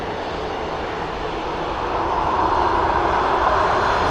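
An EasyJet airliner climbs out after takeoff at Manchester Airport with a loud, broad jet roar that swells steadily and holds close.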